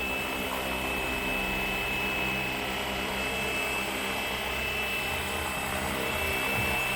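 Flywing Bell 206 RC model helicopter coming in to land on a landing pad, a constant loud, close electric whine and rotor hum with steady tonal drone throughout, no talking.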